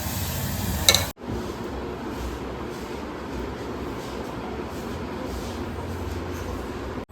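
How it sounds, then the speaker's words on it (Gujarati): Beet-juice puris deep-frying in oil for a Gujarati meal, a dense continuous sizzle with a short louder clatter at the start, then an even frying hiss throughout. "બીટના જ્યુસથી પૂરી તળવાનું કામકાજ ચાલુ છે"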